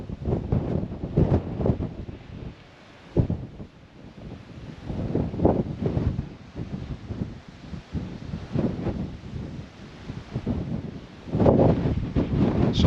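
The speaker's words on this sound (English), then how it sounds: "Sorry about the wind. It is pretty windy up here." Gusty wind buffets the open air of a high lookout near Cooktown in Queensland, Australia, roaring in uneven surges and lulls at close range with no voices.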